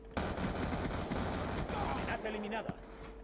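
Shotgun fire in Call of Duty: Black Ops 2 online multiplayer, dense bursts of loud gunfire cracking in quick succession with other shots and battle noise around, under excited Spanish chatter.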